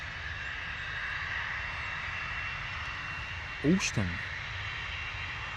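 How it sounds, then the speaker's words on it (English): A Ryanair airliner arriving from Cologne at London Stansted produces a continuous, moderate engine drone in the background, while a person speaks briefly over it partway through. "Ryanair coming in from Cologne this morning."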